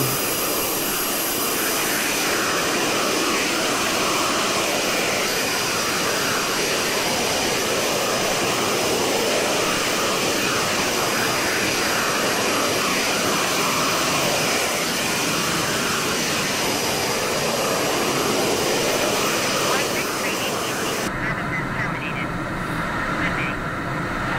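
Steady, loud roar of a T-45 jet engine in Microsoft Flight Simulator 2020, a sustained whine and rush lasting throughout before cutting off abruptly near the end.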